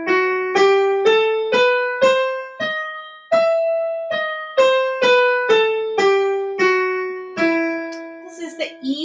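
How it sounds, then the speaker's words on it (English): Piano notes played one at a time up an E harmonic minor scale, about fourteen evenly spaced struck tones, each ringing briefly before the next, clear and alone with no voices. "This is the E harmonic minor scale."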